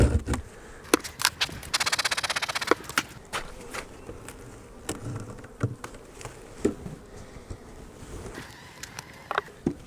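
Honeybees in an open winter hive, uncovered from the top for feeding sugar cakes, give a close, steady buzzing hum. A louder buzzing swell comes early on, and sharp knocks and clicks from handling the hive are scattered throughout.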